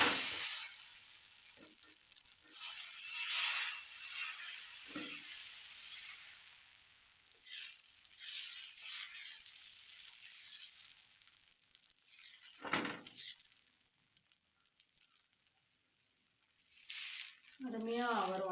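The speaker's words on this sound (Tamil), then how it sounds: "இப்போ நம்ம தோசை செய்ய ஸ்டார்ட் பண்ணலாம்." Ragi and green gram dosa batter sizzles on a hot pan with a soft, airy hiss, broken by occasional spreading and scraping sounds. It is quiet and close, fading and swelling over the span.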